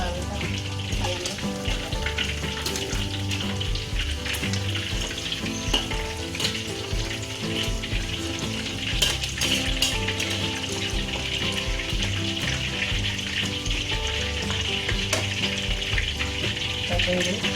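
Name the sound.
water being added to a pan while cooking chicken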